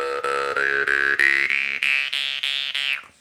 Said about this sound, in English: As we reduce the cavity of our mouth by moving our tongue up and filling our mouth up,